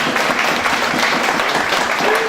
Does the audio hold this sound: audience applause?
yes